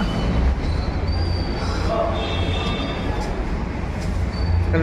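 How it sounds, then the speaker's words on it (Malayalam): A Delhi Metro train rumbles steadily into a station, its loud, continuous roar carrying faint high-pitched wheel squeals. "ഇത് മെട്രോ എത്തിയിട്ടുണ്ട്"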